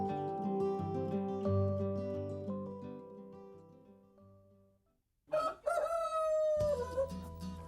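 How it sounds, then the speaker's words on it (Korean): A rooster crows once in the early morning, where women divers working away from Jeju live, rising loudly and close after background music fades out. "닭울음 소리와 함께 출가 해녀들의 아침도 시작된다."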